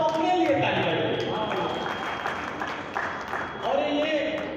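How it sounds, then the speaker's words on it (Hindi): An audience at a comedy poetry event claps in a broad, sustained wash of applause that fills the space and then fades slightly. Voices talk over it. "एक बार आप सब अपने लिए ताली बजाइए।"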